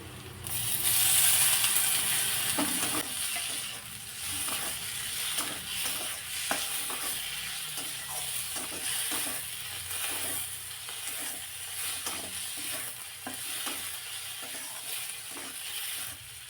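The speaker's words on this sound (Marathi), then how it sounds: "जरा वेळ हे चांगलं परतून घ्यायचं आहे टॉमॅटो पटकन सॉफ्ट होतं" Chopped tomatoes sauté in a hot pan for a dhaba-style curry, a bright hiss rising at first then settling into a steady sizzle broken by regular spatula stirs, close and without voices.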